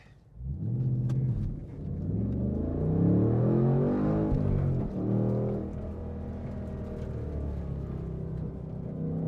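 A 2024 Ford Mustang Dark Horse rumbles loudly around a figure-8 test course, its V8 engine note rising and falling as it accelerates through the loop, close and continuous with no talk.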